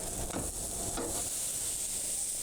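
Red velvet French toast flipped in a frying pan, a steady close sizzle with soft scraping and stirring bursts near the start, then continuous frying hiss.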